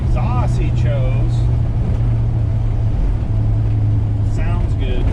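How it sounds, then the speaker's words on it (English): A 1969 Dodge Coronet 500 exhaust gives a steady low burbling drone throughout, with someone talking over it. "The exhaust he chose"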